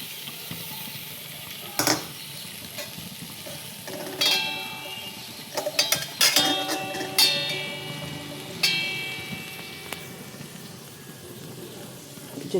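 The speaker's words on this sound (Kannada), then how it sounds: "ಎಲ್ಲನೂ ಕೂಡ ಒಟ್ಟಿಗೆ ಹಾಕ್ಕೊಂಡು ಸ್ವಲ್ಪ ಫ್ರೈ ಮಾಡ್ಕೋಬೇಕು ಬೆಣ್ಣೆಲಿ" Vegetables fry together in butter in a pan for a vegetable soup, a steady soft sizzle broken by several sharp clatters of a spoon against the pan.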